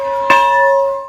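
An old school bell, returned home after 106 years, rings for students on a Tuesday morning: one sharp clear strike followed by a bright sustained ringing tone that lingers and fades, alone without talk.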